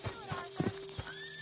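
A horse in a video game whinnies with a rising, shaky neigh while hooves clop a few times underneath, close and clear.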